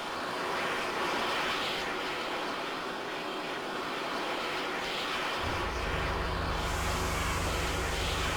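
An airplane engine in the video game Arma 3 spins up from a steady background roar, with a deep low hum kicking in about two-thirds of the way through and building into a loud, sustained drone.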